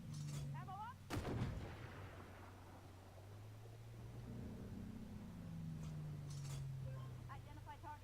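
A single heavy cannon blast from an AMX10 armored vehicle in the tank game Armored Warfare, a sharp boom followed by a rolling decay, with engine drone and faint radio chatter continuing under it.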